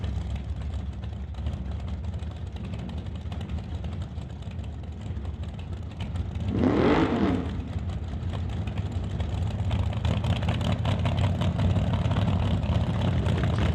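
Dragster engine at a drag race heard from a distance, a constant low droning rumble with one brief louder swell of a passing roar midway, no announcer speaking.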